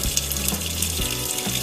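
Water rushes steadily into the drum of a Haier washing machine, a close, continuous splashing hiss with no talk.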